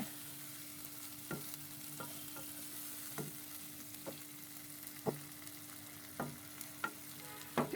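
Shrimp sautéing in spices in a pan for chingri bhuna, a soft continuous sizzle broken by regular scraping strokes of a spatula, close and fairly quiet, with no talking.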